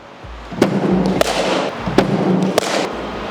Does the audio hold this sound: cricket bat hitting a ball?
yes